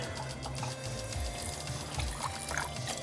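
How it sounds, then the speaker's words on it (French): Water runs from a kitchen tap as something is rinsed during home cooking, a steady pouring splash at close range with no talk over it. "On rince ça."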